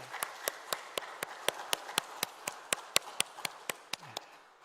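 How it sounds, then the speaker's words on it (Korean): A church congregation claps together in encouragement during a Sunday worship service, about twenty sharp, evenly spaced claps in a steady rhythm, moderately loud with no voices. "우리 격려하는 박수를 치도록 하겠습니다."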